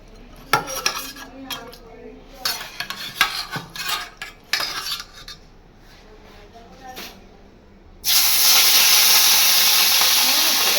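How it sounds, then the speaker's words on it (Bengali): Fish drop into bubbling hot oil in a wok, setting off a loud, steady sizzling hiss that follows several metallic clinks and clatters of utensils against the pan. "কড়াইতে তেল টকবক করে ফুটছে। চলো মাছগুলো দিই, গ্যাসটাকে কমিয়ে নিই।"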